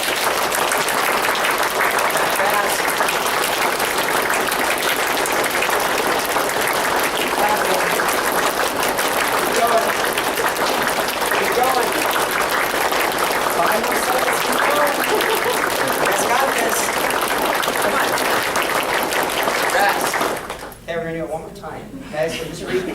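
A group claps hands rapidly and continuously as a fitness exercise, a loud, dense, sustained clatter lasting about twenty seconds before it stops and a voice speaks.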